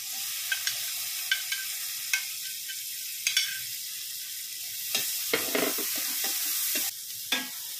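Onion frying in melted fat in a pan, a continuous close sizzle punctuated by sharp scraping taps of a spatula at irregular intervals.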